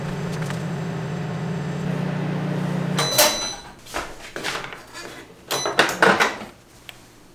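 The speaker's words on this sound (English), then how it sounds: "see what the back of the microwave is once it runs for 3 minutes without anything inside of it" A steady low electrical hum of a microwave running empty, then it stops and is followed by loud clicks, clunks and handling noises nearby.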